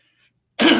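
A single abrupt, rough throat clearing bursts in after near silence, close and loud, cut off at the end.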